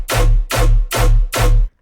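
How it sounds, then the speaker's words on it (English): A plain, unprocessed bass sample for dubstep production repeats four times in an even rhythm, each hit a loud, deep sub-heavy tone with a bright buzzy attack that decays quickly, ending in abrupt silence. "how to take a simple bass sample just like this"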